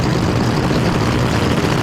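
An NHRA nitro-burning drag racing car engine idling with its crisp cackle at a night event, a loud, dense, rough rumble sustained throughout, heard alone.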